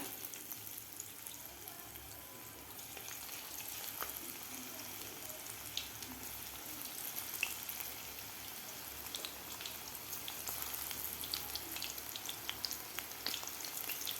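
Soybean pakodas deep-fry in hot oil, a soft, steady sizzle with fine crackling pops running continuously at low volume, no voices over it.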